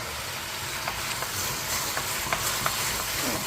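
Stewed chicken in a pot being stirred, a dense bubbling sizzle throughout with faint spoon scrapes and light taps at intervals, close and fairly loud, no talking.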